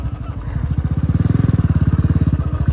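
A scooter ridden along a slippery road: a close, loud engine putters in a fast, even pulsing rhythm for the whole stretch, with no talk over it.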